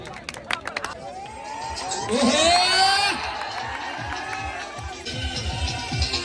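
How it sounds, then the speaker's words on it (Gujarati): Cheers and shouts rise from a crowd, swelling to a loud peak of whoops and clapping before easing off. "તાળીઓના ગડગડાટથી વધાવો"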